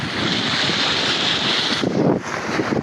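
Steady wind rushes over open coastal ground near rough surf at Bato, Leyte, loud and continuous with a gusty swell near the end, no voices.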